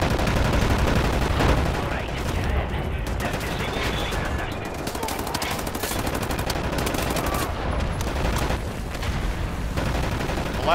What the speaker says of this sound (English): Ready to lay down suppressor fire. Good old submachine gun, baby.